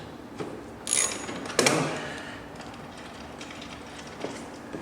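A ratchet or wrench loosens a frame bolt on a Yamaha R3 motorcycle, giving a few sharp metallic clicks and a creak close by, followed by quiet.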